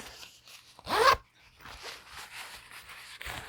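Zipper on a fabric zip pouch drawn once in a quick, close rasping pull, surrounded by soft handling rustles and light taps.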